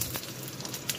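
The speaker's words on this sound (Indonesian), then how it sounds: "Oke, saya goreng dulu tahunya ya." Tofu frying in hot oil, a steady close crackling sizzle with a few sharper pops, no talking.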